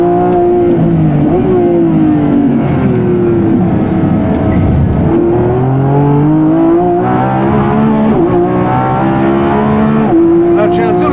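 Lamborghini Revuelto V12 engine on a race track, loud and close, its revs rising and falling in repeated surges with a harsh, buzzing tone throughout.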